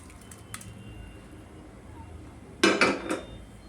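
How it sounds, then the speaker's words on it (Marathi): Hot tadka tempering is poured from a small pan into cooked dal, making a sudden burst of sizzling splutter after a few quiet seconds, near and loud. "आता मी हा तडका याच्यामध्ये ॲड करते"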